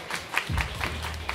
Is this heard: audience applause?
yes